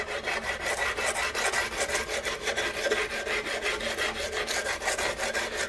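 A half round file rasps across the curved wrist area of a wooden CVA Hawken rifle stock in quick, regular back-and-forth strokes, close and dry with a steady scratchy rhythm.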